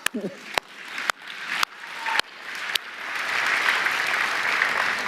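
Audience clapping at the Microsoft Build 2023 keynote, beginning with a few sharp isolated claps and swelling into sustained applause across the hall.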